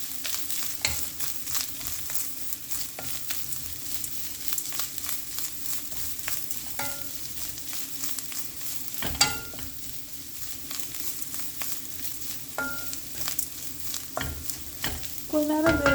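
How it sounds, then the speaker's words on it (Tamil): Grated coconut and beetroot fry together in a pan for a beetroot poriyal, giving a steady close sizzle with spoon scrapes and clatters, louder near the end. "இதை நான் கொஞ்ச நேரம் இப்போ நல்லா ஃப்ரை பண்ணிக்கிறேன்"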